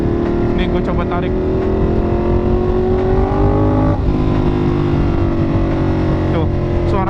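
Ducati Monster 1200S motorcycle engine revving hard while accelerating, a loud, close, sustained roar with rising pitch sweeps and a brief dip near the middle, continuous for several seconds.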